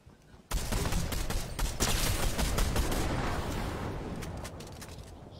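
Rapid gunfire erupts loudly in a video game shooter, a dense volley of shots that starts abruptly and continues for several seconds before slowly tapering off.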